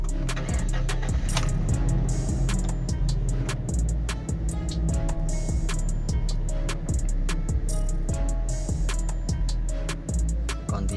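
A Toyota Innova petrol engine with weak pull and heavy acceleration fires up close by and settles into an idle, ticking in an even, rapid rhythm over a low rumble.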